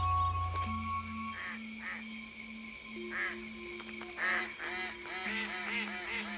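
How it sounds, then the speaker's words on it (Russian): Several ducks honk and call in short, repeated bursts, some overlapping, against a steady background hum. "Утки."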